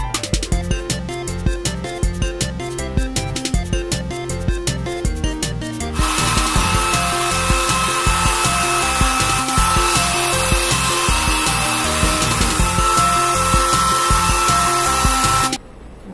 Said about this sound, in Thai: เรามาก็เป่าผมให้แห้ง